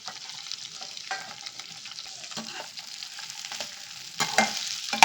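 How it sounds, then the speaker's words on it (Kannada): Garlic and ginger frying with chilli and onion in a pan, a soft steady sizzle with occasional stirring scrapes, growing a little louder toward the end. "ಇದು 1-2 ನಿಮಿಷ ಫ್ರೈ ಮಾಡ್ಕೊಳ್ಳೋಣ."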